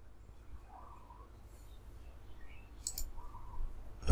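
A computer mouse clicks once, sharp and close, near the end of a quiet stretch of faint room noise, with no talking.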